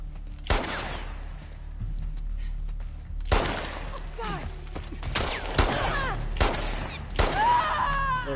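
Gunfire in The Last of Us rings out in several separate loud shots spaced a second or two apart, each with a sharp crack and ringing tail over low background game ambience.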